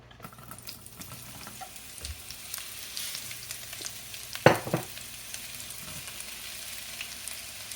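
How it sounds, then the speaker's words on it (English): Vegetables and garlic sauté in two tablespoons of oil in a pan, a soft steady sizzle with faint stirring and a brief clatter midway, no talk. "Your next step is to saute the vegetables. So you'll use 2 tablespoons of oil in here."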